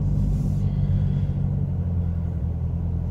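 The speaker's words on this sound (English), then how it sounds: "You hear a little bit of supercharger, but not too much." A supercharged 2013 Chevrolet Camaro ZL1 engine rumbles low and steady with a faint supercharger whine on top, a deep throaty drone heard close up without any talking.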